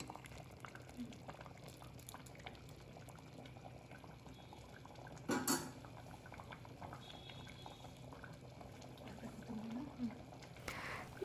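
A pot of vegetable saagu boiling steadily on the stove, a faint, continuous bubbling simmer with a brief louder stir or clink midway and another near the end.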